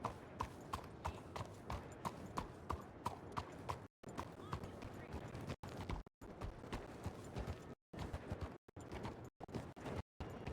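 Rhythmic clip-clop of a horse's hooves in a Western roleplay video game, regular close steps with brief gaps of silence, the steady beat carrying under light talk.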